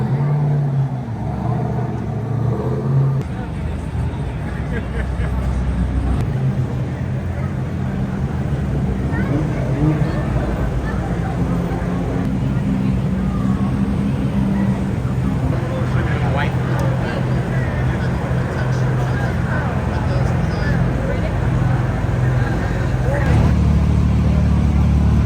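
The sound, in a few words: cars leaving a night car meet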